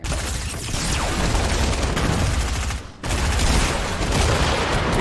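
Assault rifle gunfire in Fortnite, a loud continuous burst of rapid shots that runs for several seconds, breaks off briefly and then resumes just as densely.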